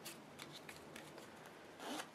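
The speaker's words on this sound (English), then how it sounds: "And one more set of cuts." Quick papery flicks and snaps as a deck of playing cards is cut by hand, close and quiet, with a fuller riffle at the end and no speech.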